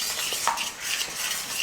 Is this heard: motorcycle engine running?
no